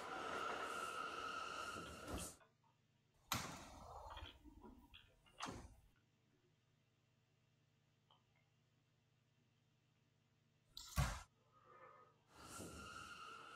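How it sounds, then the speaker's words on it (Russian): A metro train arrives at an underground Moscow station, with bursts of rumbling and hissing at the start and in short loud surges between quieter gaps of low hum, heard fairly close. "А вот наш поезд приехал."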